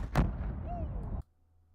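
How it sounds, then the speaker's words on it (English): Incendiary ammunition fired in combat, with one sharp loud blast followed by a second of dense rumbling roar that cuts off abruptly. "that's incendiary ammunition that's supposed to be used on people"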